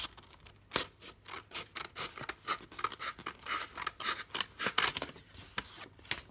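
Paper being snipped with scissors while shaping a boomerang, a quick irregular run of close, crisp cuts and rustles with brief pauses between strokes.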